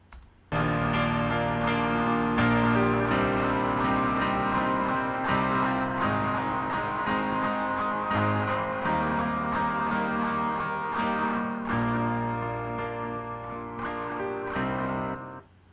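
Guitar and piano play together in a sustained, full arrangement, steady and fairly loud, with chords ringing throughout and no voices.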